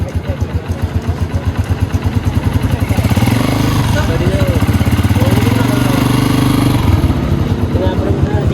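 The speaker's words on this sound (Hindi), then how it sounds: "तो अभी हमने स्टार्ट कर लिया बाइक को" A Honda CG 125 motorcycle engine with a ticking engine noise idles close by: a steady, loud, rhythmic single-cylinder putter that rises slightly after a few seconds and holds.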